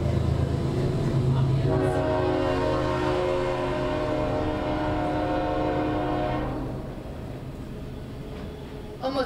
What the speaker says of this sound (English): We're going to wait for the train.